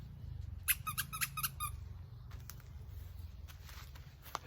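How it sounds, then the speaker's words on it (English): A puppy's squeaky toy squeaks in a quick burst of about five shrill squeaks, then a few fainter squeaks, heard outdoors at a campsite over a low rumble of wind. "you want your squeaky toy? I brought your squeaky toy."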